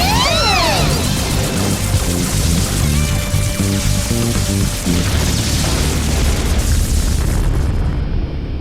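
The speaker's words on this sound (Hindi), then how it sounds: "micro missile storm gun fire" Cartoon micro missile storm gun firing a barrage, with booming explosions and crashing blasts, busy music and whooshing effects beneath, loud and continuous before cutting off abruptly at the end.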